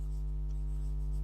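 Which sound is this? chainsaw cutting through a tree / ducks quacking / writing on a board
writing on a board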